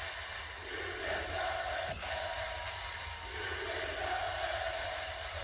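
Wrestling arena crowd chanting for the new Mr. Money in the Bank, a steady dense roar with rhythmic swells of massed voices, sustained and fairly loud throughout.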